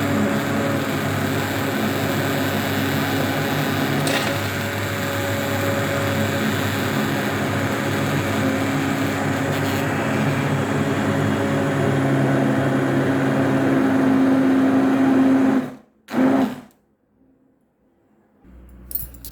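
An electric kitchen blender runs steadily for about fifteen seconds, churning cream with water into butter, a loud continuous whirring drone that cuts off abruptly near the end, followed by a brief restart and silence.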